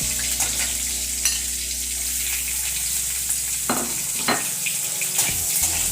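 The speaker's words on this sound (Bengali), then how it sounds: "পেঁয়াজটা আমি একটু ভেজে নিচ্ছি, লাল করে এটা পেঁয়াজটা ভেজে নিতে হবে।" Onions frying in oil in a pan (kadai) for a Bengali jackfruit curry, a steady close hiss and sizzle with occasional stirring clatters, no talking.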